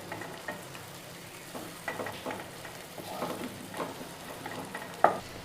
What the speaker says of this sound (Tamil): இப்போது நம்ம எல்லா முட்டையும் திருப்பி விட்டுக்கலாம்.